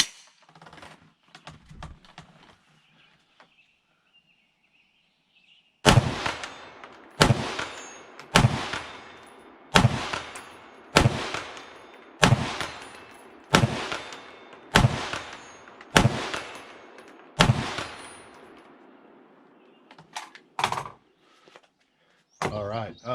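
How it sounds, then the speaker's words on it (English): Roughly a dozen evenly spaced rifle shots from a WWSD2020 AR-15 fired outdoors at a 100-yard target, each a loud sharp crack with a short decaying tail, a steady rhythm about one shot per second. "let's take some shots at 100 yards with the What Would Stoner Do rifle"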